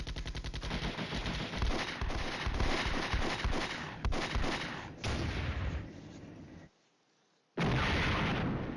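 Booming artillery explosions and rapid bursts of fire in the Flashpoint Campaigns: Red Storm war game, with a dense, continuous barrage for several seconds that thins, cuts out briefly, then slams back in loudly.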